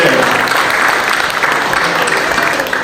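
An audience applauds at a Pakistan Resolution Day event in Brooklyn Borough Hall, a dense steady clapping that fills the room for about three seconds, loud and close, with a voice faintly audible beneath.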